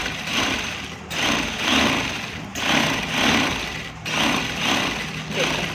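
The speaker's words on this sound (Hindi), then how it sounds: "ऐसे ही हम लोग इसके एज पे सिलाई लगा लेंगे।" Sewing machine running in repeated bursts of about a second each, with brief stops between them, as it stitches the edge of a men's kurta, loud and close.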